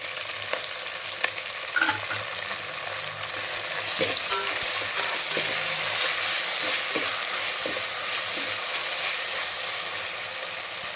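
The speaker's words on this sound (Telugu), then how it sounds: "బాగా వేగాలన్నమాట పుదీనా అల్లం వెల్లుల్లి పేస్ట్" Mint and ginger-garlic paste frying with onion in a pan for Telangana-style bagara rice: a steady, close sizzle with scraping stir strokes, growing a little louder midway, with no talking.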